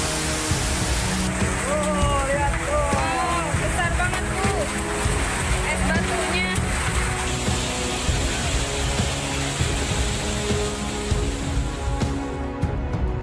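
Heavy rain with hail pours down in Bogor, West Java, in a dense, loud, unbroken roar that holds steady throughout.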